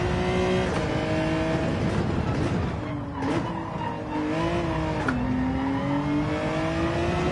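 A race car engine at full throttle in Gran Turismo 7 drones loudly and continuously, its pitch dipping and rising around shifts, with brief tire squeal and skidding mixed in; no one talks.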